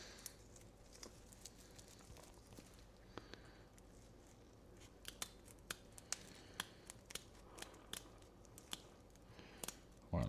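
Scissors snip wire ends shorter while assembling a chat-controlled LED setup, giving a scattered run of short, sharp clicks and cuts over a low background hiss, with a louder handling thump at the end.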